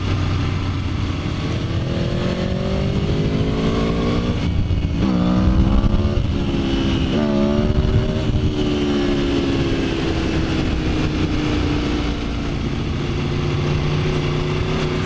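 A motorcycle engine, with wheelie control on, runs loudly throughout, its pitch rising and falling as it revs hard several times, with no talking.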